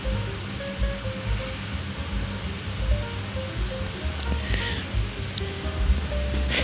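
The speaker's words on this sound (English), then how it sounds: "Another healthy amount of oil to stir fry all the vegetable." Vegetables stir-frying Chinese style in a generous amount of hot oil, a steady crackling sizzle running throughout alongside soft background music, with a few brighter spits near the end.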